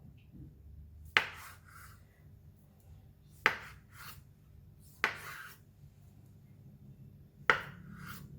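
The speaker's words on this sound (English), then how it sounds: "We're going to fry it, so I'm going to cut it into smaller pieces" A knife cuts fried tofu into small pieces on a cutting board, giving four crisp, separate chops spaced a second or two apart over a low, steady kitchen hum.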